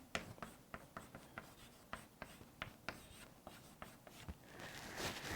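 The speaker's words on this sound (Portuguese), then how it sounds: "Então eu vou escrever assim" A math formula written by hand, pen scratching in quick separate strokes with short pauses between them, close and fairly quiet, ending in a longer rubbing scrawl.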